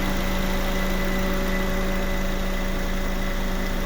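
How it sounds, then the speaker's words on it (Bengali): A running engine with its cooling fan on gives a steady, loud drone and hum with constant vibration and a whirring fan layered on top, close by and unbroken, with no talking. "এখন ইঞ্জিনের সাউন্ডটা আপনি শোনেন, ফ্যান চলতেছে, একটু বেশি সাউন্ড শোনা যাবে এই জন্যেই।"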